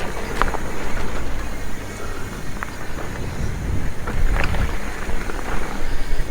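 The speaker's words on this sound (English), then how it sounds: "Ooh, that wind." Strong wind buffets the microphone while mountain biking on flowy switchbacks and hilly trails at Wilson Lake State Park in Kansas, a loud continuous rumbling roar with gusts swelling and easing throughout.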